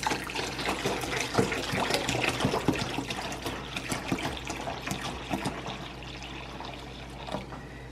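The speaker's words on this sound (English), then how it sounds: "I'm gonna add some more water" Water pours and splashes into a bowl of turkey brine mix nearby, a steady gurgling stream that slowly settles toward the end.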